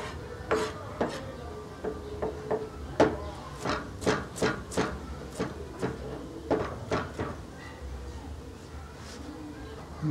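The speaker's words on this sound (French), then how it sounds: "d'écraser l'ail avant de lâcher, avant de hacher." Garlic is crushed on a board before chopping for Congolese liboké, a series of dull, uneven knocks and thumps repeating for several seconds under quiet background talk.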